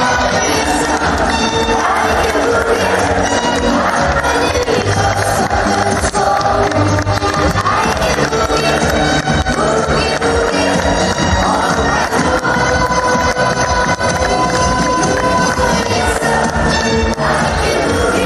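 A large crowd at a Cage Warriors MMA event in Newcastle roars and cheers continuously, a dense wall of noise with shouts rising over it, loud and close throughout.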